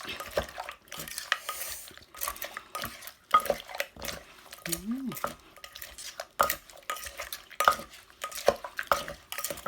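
Tam sua Thai papaya salad ingredients are mixed and kneaded in a bowl, giving irregular wet squelches and clacks of utensils against the dish, close and fairly quiet with no talk.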